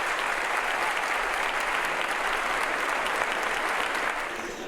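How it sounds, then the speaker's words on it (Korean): Steady, dense audience applause aimed at a stage after a performance, loud and continuous throughout, thinning slightly near the end with no talk over it. "여운이 남는 만큼 무대를 향한 박수갈채가 쏟아집니다."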